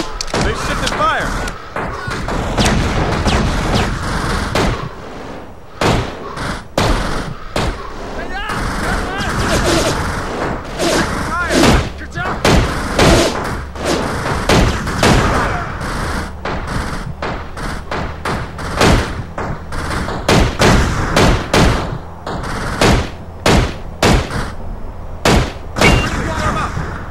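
Gunfire in America's Army on Xbox, sharp loud shots fired in rapid irregular bursts and volleys for the whole stretch, mixed with heavy thuds, while voices talk now and then.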